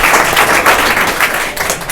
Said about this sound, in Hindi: अगर सर के बातों से एक बार ताली मार लीजिए